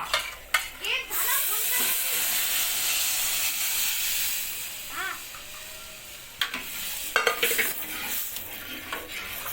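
Dal tempering sizzles and hisses steadily in a pan, with utensil clinks and scraping stirs at the start and end, and faint speech nearby.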